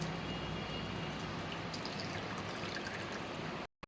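Bael fruit pulp squeezed by hand in a bowl of water for a summer sherbet gives a steady, close, wet sloshing and trickling that runs continuously before stopping abruptly at the end.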